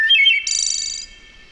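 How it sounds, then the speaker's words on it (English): Wood thrush singing a melodic, flute-like phrase: a short rising trill followed by a bright sustained warble, close and clear with no other sounds. "it would definitely be the wood thrush. That melodic flute,"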